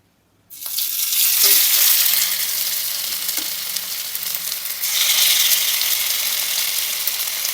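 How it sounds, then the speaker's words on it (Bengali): Chicken reshmi kebab skewers hit a hot grill pan and burst into a loud, steady sizzle that swells again midway as they are turned, with faint clinks of the skewers and no talking. "এবার আমরা স্টিকগুলো এক একে ভেজে নেবো"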